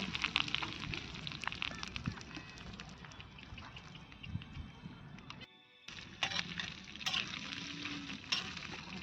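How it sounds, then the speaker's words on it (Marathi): Dried Bombay duck fish frying crisp in oil over a wood fire outdoors, a faint, steady sizzle with scattered crackles and pops, no talking. "असं कडक कडक तळते चांगलं चांगलं कडक बोंबील तळायचे"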